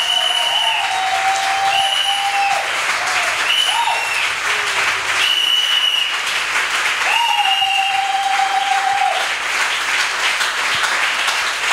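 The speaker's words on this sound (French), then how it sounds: "je dis acclamons pour le Seigneur." A church congregation applauds for the Lord, steady sustained clapping throughout with sung or held voices rising over it at intervals.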